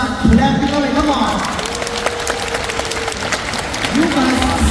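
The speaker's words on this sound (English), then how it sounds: "if you want Nox to fail, raise your hands and start clapping on it" Audience applause at a Singapore Zoo sea lion show, scattered sustained clapping from a crowd, with a presenter's voice speaking over it at moments.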